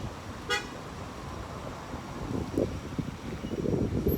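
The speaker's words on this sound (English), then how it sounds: "this is traffic on the East Bank Public Road" Traffic rolls along the East Bank Public Road beside bridge construction, with a short car horn toot early on and passing vehicles swelling louder toward the end under gusty wind.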